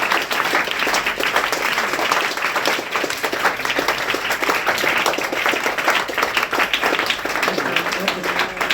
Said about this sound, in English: What children, won't you clap for her?